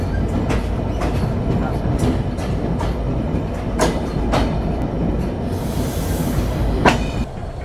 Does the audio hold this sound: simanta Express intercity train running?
yes